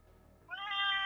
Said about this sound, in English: here comes the kitty